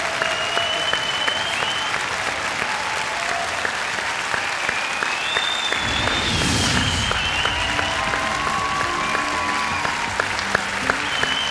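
Audience applause fills a talent show semifinal in Czechoslovakia (2015): steady, dense clapping that swells briefly midway and continues throughout, with no talk over it.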